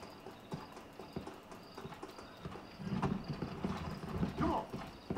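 Horse hooves clip-clop at a steady walking rhythm in Red Dead Redemption, with several soft thuds building toward a louder burst near the end over a low background bed.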